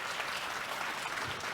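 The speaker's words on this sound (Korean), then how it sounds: "큰 박수로 맞이해 주시기 부탁드립니다" An audience at an academic conference opening ceremony claps steadily to welcome a keynote speaker, a dense, even wash of applause from a large crowd with no breaks.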